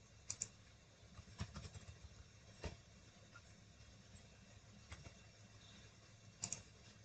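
Scattered keystrokes on a computer keyboard while HTML code is typed, quiet and close, with irregular clusters of clicks and a few sharper taps between short gaps.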